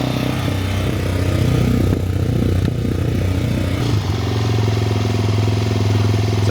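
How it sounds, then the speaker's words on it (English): Suzuki DR-Z motorcycle with a Yoshimura exhaust idling close by, a steady loud low rumble that shifts slightly in pitch partway through. "Sounds like a DRZ."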